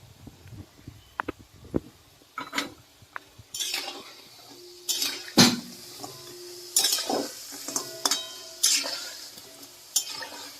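Bengali murali sweet frying slowly over a low flame, with soft sizzling broken by clinks and scrapes of a utensil stirring against the pan at irregular intervals.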